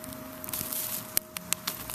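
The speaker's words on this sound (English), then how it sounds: "I'm just gonna spread this out just a little bit," Burning campfire embers are spread out with scattered crackles, scrapes and soft pattering taps, close and fairly quiet with no talk.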